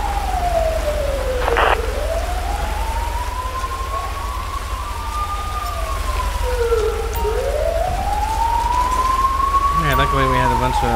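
An ambulance siren on a code 3 call in GTA V wails in long slow rising and falling sweeps over steady rain hiss, loud and close, with a brief chirp near the end.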